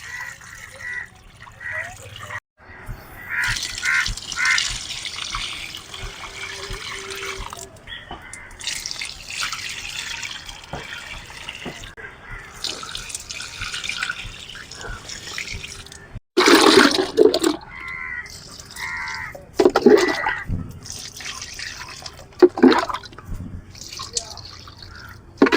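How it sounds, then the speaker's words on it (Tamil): Fenugreek-soaked water poured from a container onto potted rose plants, with repeated bursts of splashing and gurgling liquid, some quick and loud, separated by short pauses across nearly half a minute, with no speech. "நம்மக்கிட்ட இருக்க எல்லா ரோஜா செடிக்குமே வெந்தய தண்ணியை ஊற்றியாச்சு."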